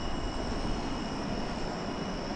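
A jet landing at DFW Airport, a broad steady roar of engine and air noise at constant loudness with a faint high whine, heard from the ground and with no voices.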